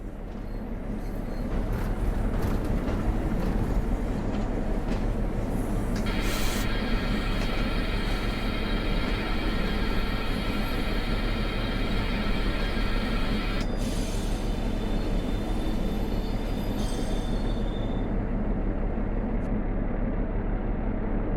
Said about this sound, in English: Then move it back to stop and wait until the train comes to a halt.